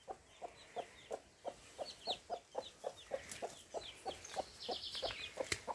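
A hen clucks softly in a steady, regular rhythm at a farm smallholding while her newly hatched chicks peep high and thin around her, quiet and close with no talking.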